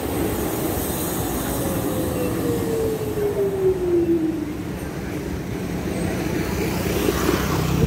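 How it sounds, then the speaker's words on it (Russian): A tram rolls along a city street, a steady rumble of wheels on rails with a thin sliding squeal rising and falling as it passes nearby, continuous and fairly loud with no talking. "Вот если бы мне нужен был трамвай, я бы его не дождалась. А сейчас они никогда не нужны, они ездят..."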